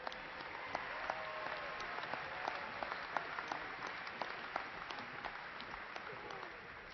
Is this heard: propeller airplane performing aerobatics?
no